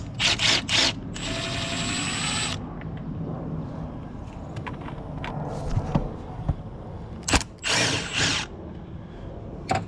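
Bursts of a power tool whirring as it backs bolts out while a cover is removed during an engine mount job on a Range Rover Evoque. There are several short, loud spins with a longer burst early on, and quieter clinks and handling noises between them.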